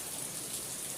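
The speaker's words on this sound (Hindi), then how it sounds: "बहुत बारिश हो रही है फ्रेंड्स" Heavy rain pouring down in a village, a dense continuous hiss of drops on surfaces, steady and close throughout the brief moment, with no talking.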